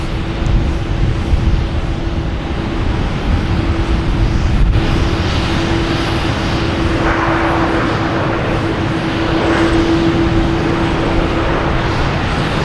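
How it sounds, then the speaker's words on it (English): A JetBlue Airbus A321 jet roars at Boston Logan Airport, a loud continuous engine rumble with a steady droning tone that swells slightly toward the end, without voices. "It's JetBlue from LAX, flight 288,"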